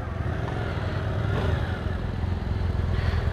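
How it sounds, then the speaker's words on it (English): A 2017 Yamaha MT-07 Tracer (Tracer 700) motorcycle on a dealer test ride gives a steady, close engine drone with constant rumble and wind noise throughout, no speech. "I am test riding this MT-07 Tracer."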